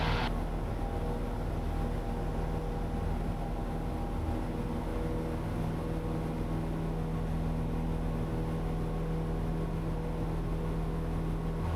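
Small general aviation airplane engine at full power during takeoff roll and climb, a steady loud droning hum with a constant low tone that holds unchanged throughout, heard from inside the cabin with no talk.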